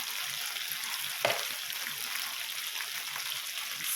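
Teriyaki chicken kebabs grill indoors, giving a constant close sizzle and crackle at low volume with one brief clatter partway through and no talk.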